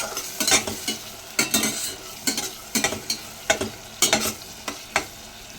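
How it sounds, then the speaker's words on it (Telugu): Onions and green chillies fry with turmeric in hot oil, a close sizzle broken by rhythmic scrapes and knocks of a spoon stirring against the pan, about a dozen strokes in quick bursts, no talking. "ఆయిల్ కాగింది కదా, మనం ఆనియన్స్ పచ్చిమిర్చి వేసుకుంటాం. కొద్దిగా పసుపు వేసుకున్నాము. తిప్పుకుందాం ఒకసారి"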